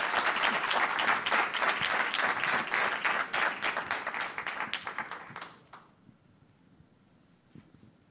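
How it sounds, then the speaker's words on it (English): Audience at a scholarship event applauds steadily with dense clapping, then the applause fades out and stops, leaving near silence with a few stray claps. "You all clap it up for Ms."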